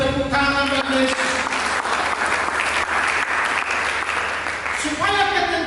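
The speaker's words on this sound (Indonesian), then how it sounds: "Mari kita sambut dengan tepuk tangan bagi Yesus." A church congregation claps together during a worship service, steady dense applause sustained for several seconds, with music or voices at the start and end.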